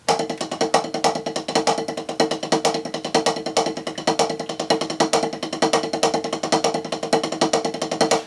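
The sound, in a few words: drum mixed sticking with accented singles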